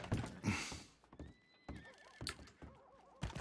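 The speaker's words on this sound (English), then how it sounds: "Oh, your horse is getting real close." A horse neighs and whinnies in a roleplay video game soundscape, with clip-clopping hooves and bursts of noise between the calls, fairly close.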